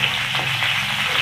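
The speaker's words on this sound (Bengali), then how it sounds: "কাঁচা লঙ্কাগুলো ছেড়ে দেবো। এগুলো একটু ভাজা ভাজা হলেই মটরশুঁটিটা দেব।" Green chilies fry in hot oil in a pan while peas paratha is being prepared, giving off a steady, close, crackling sizzle with no voices.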